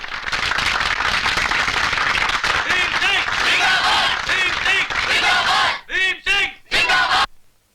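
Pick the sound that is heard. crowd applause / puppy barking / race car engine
crowd applause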